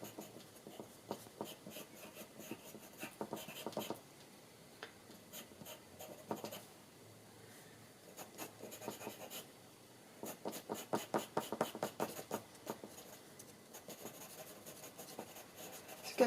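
Charcoal scratches and scrapes across paper while shading a cockatiel's eye in a drawing, close and quiet, with bursts of quick, dense strokes separated by lighter, slower passages.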